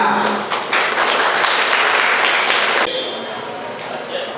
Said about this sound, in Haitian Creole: à applaudir tout le monde.